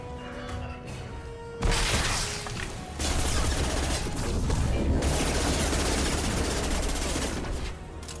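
Sustained automatic gunfire and heavy weapon bursts from the Mass Effect 2 video game, loud and dense, starting after a quieter opening and continuing almost without pause, with a brief swell and crash near the middle.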